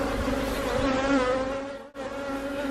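Honeybees buzz steadily and close by in an opened backyard beehive, a dense continuous hum that swells slightly before a brief dip and then resumes.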